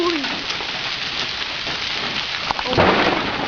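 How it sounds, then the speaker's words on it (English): A heavy hailstorm pelts a home deck, making a dense, loud, continuous hiss of ice and rain striking the surface, with a low rumble of thunder that swells near the end. "There's like hail everywhere."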